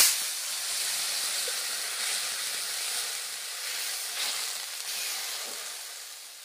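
Water hits a hot pan of pabda fish curry spiced with curry leaves, turmeric and chili powder, setting off a loud, steady hiss and sizzle of steam that carries on and eases slightly toward the end.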